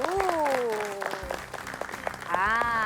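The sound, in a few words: applause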